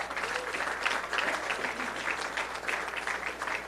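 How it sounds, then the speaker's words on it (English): An audience claps steadily in a room at Gov. Pete Ricketts' 2018 election victory speech, a warm continuous wash of applause that holds at the same level for a few seconds. "give them a round of applause, please"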